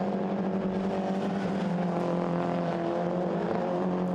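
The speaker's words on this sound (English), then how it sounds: "These 2-litre John Cooper Works Minis. Real mini touring cars, 2-litre turbocharged, slick tyres, sequential gear shifts, front engine, front wheel drive," Two-litre turbocharged John Cooper Works Mini touring cars on slick tyres, with sequential gearboxes and front-mounted engines driving the front wheels, race at Brands Hatch. Their engines make a steady, dense drone that holds at an even level throughout, with no voices.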